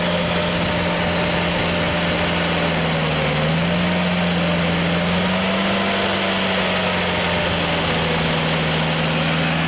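An engine on a Genie lift idles loud and close, a steady low drone with a harmonic hum that wavers slightly in pitch midway and stays constant throughout.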